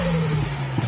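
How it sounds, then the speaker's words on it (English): A $155 journal-bearing, oil- and water-cooled TD04L13T turbo spools up on a running engine, heard as a loud, close, steady engine drone with a sustained tonal hum. "this thing spools so fast."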